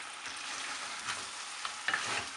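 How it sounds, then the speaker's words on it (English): Mutton curry with mustard frying in a pan while being stirred, a steady soft sizzle broken by a few louder scrapes of the spoon toward the end, close and fairly quiet with no talking. "Continue stirring."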